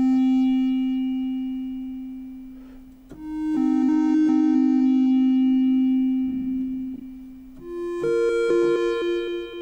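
Behringer Pro1 analog synth played through a TC Electronic Prophet Delay set to a large hall reverb: sustained bright tones that shift pitch in steps, each note trailing into long reverberant wash and repeats, no talking.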